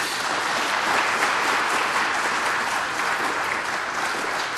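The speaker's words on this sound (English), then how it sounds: "let's give a round of applause to our speakers." Steady, dense applause from a conference audience thanks the speakers at a student labor and anti-austerity event, a full even wash of many hands clapping at once with no talk over it.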